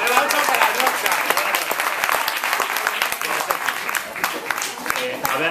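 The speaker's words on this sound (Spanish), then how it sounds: "Un aplauso para el Rock Sound." Close, energetic applause from a crowd inside the Rock Sound concert venue, sharp individual claps clearly audible within a dense ongoing round, with some voices mixed in.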